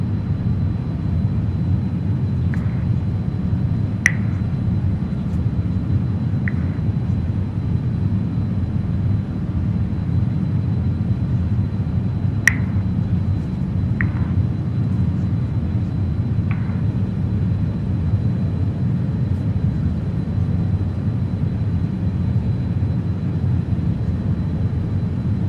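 Avro RJ100 jet airliner in Microsoft Flight Simulator 2020, cruising at altitude: a steady, even cabin drone of the engines holds throughout, with a few faint clicks and ticks over the low roar.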